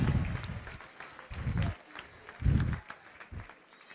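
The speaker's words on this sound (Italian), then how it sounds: "un applauso per iniziare a voi" A crowd in a conference hall at the Job Day Sardegna event in Cagliari applauds at the opening. The clapping sits under low, booming surges of sound that rise and fall in bursts.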